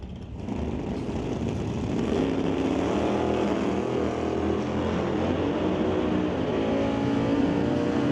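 Camaro and Malibu drag cars launching side by side at a racetrack, engine noise swelling from a softer start into a loud, sustained roar that carries on steadily.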